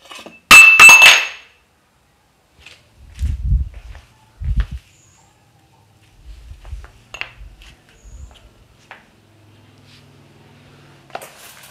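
A Duralex drinking glass hits a hard floor with one sharp, bright clink and does not shatter, followed by softer scattered thuds and rolling knocks.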